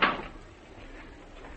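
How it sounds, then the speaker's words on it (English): A door swings shut in a radio drama, one soft dull thud at the start that fades into a quiet room tone with no voices. "Close the door, Stoddard."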